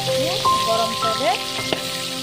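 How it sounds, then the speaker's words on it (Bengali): Fillets of rupchanda pomfret frying in hot oil sprinkled with salt give off a steady, close hiss for about two seconds, partly overlaid by sliding whistle-like tones. "তাহলে মাছটা খুব সুন্দর ভাজা হয়ে যায়।"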